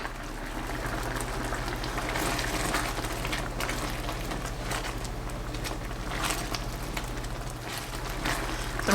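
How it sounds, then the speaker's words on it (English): Cannellini beans with Italian seasoning and red pepper flakes simmer in a pot, giving a steady bubbling hiss with a low hum beneath, constant and moderately close throughout. "We're just gonna let that kind of simmer for a little while."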